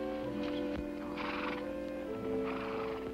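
Several horses whinny and nicker close by while hooves shuffle and clop, with a steady low hum beneath.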